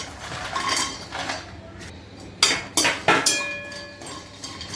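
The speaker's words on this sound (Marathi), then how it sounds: "आता मी सुकं खोबरं त्यामध्ये पॅनमध्ये टाकते" Dry coconut is tipped into a pan on low heat for roasting, with clinks and clatters of utensils against the pan, including a few sharp, close metallic knocks midway and no talking.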